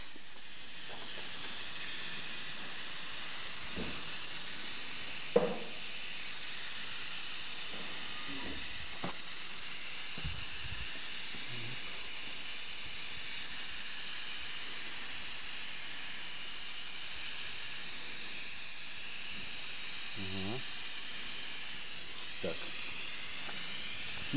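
A spray gun set to one atmosphere of pressure mists hydrographic carbon activator in a steady broad hiss that runs almost the whole time, with a few faint knocks and handling sounds underneath.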